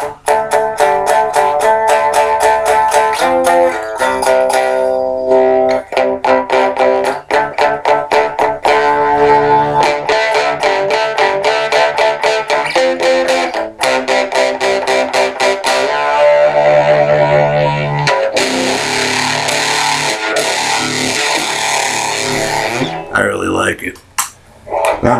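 Electric guitar played through a Buzztain bias clipper distortion pedal, with the guitar's tone control turned down for rhythm tones; loud, continuous distorted chords and riffs run throughout with brief gaps, ending in a short break.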